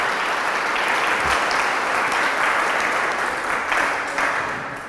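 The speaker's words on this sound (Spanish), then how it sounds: "Dale este fuerte aplauso al Señor por su amor y su misericordia." A church congregation gives steady, sustained applause during a service, a dense, even wash of clapping that holds for several seconds before tapering slightly.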